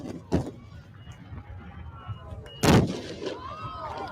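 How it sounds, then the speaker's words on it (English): Daytime fireworks explode in two heavy booming bursts, the second louder and sharper, with a faint rumbling, crackling tail between them. "Daytime fireworks."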